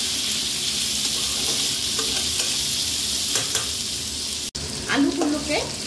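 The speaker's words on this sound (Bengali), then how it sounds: "আলুগুলোকে অল্প ভেজে নিলাম।" Potatoes frying in a pan in a Bengali home kitchen, a steady bright sizzle with scraping stirs of a spatula, a short break, then louder clattering stirring near the end.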